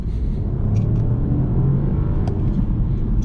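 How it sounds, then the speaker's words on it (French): A hybrid Mini Countryman's engine rumbles loudly and steadily as it accelerates in sport mode, with a deep continuous drone close by. "si vous voulez vous amuser un petit peu à accélérer, il y a du coup le mode sport"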